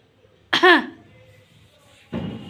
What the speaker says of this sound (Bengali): আমি জানি কাশি লাগবে তাড়াহুড়ো করে খাচ্ছিল তো